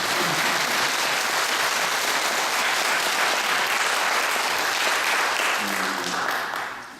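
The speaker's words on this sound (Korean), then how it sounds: "한번 박수를 주도록 하겠습니다" An audience at a church retreat gives steady, full applause for several seconds, the clapping dense and even before tapering slightly at the end, with faint voices mixed underneath.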